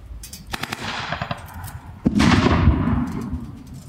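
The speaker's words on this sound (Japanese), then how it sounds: "先ほど設置した爆破薬が爆発しました。" A demolition explosive charge detonates at a Japan Ground Self-Defense Force engineering demonstration at Iwamizawa Garrison, preceded by a few sharp cracks, then a loud blast with a rolling roar that decays over about two seconds.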